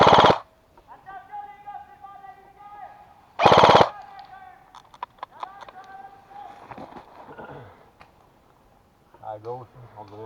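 Airsoft guns fire in short, sharp bursts outdoors during a game, with two loud rattling volleys and scattered smaller pops. Players talk and move around between the shots.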